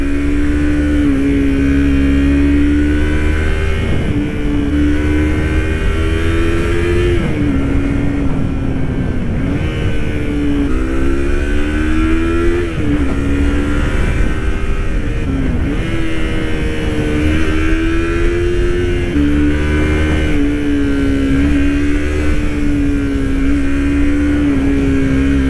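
A Yamaha MT-25 motorcycle engine drones loudly and continuously while riding, held at high revs with rising and falling pitch through gear changes, close to the mic.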